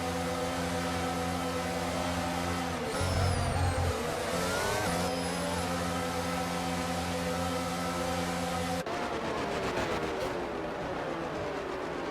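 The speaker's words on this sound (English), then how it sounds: "the cars take their positions on the grid" Formula 1 race cars roll through a formation lap in the F1 22 racing game, a steady layered engine drone with sustained tones that shift near the end, with no talking.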